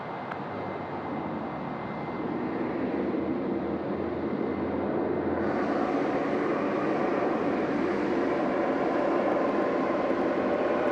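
Jet airliner at Sydney Airport at night, rolling onto runway 16 right to line up for takeoff; a steady, loud engine roar that swells and brightens partway through, with no talk.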